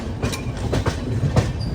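The Jamnagar to Tirunelveli Express rolls into platform 3 at Ernakulam Junction, steady clickety-clack of wheels over rail joints in a regular rhythm, close and loud, with a faint squeal near the end.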